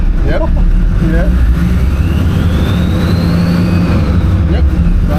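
Nissan Patrol with a TD42 diesel engine and F66 turbo, heard from inside the cab as a loud, steady low drone with turbo whine rising through the middle, while people talk over it.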